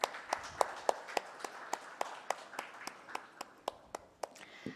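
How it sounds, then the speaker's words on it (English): Quiet, sparse clapping from a small audience at a conference session, sharp individual claps in a loose steady rhythm over a soft background murmur. "Please give them a round of applause."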